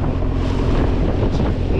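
A fishing net boat out at sea, heard as a loud, steady rumble of engine, wind and water, with no clear break.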